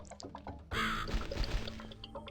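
A crow gives one raspy caw in the game Cat Lady, starting abruptly after a hushed moment and fading into low eerie ambience with faint drips.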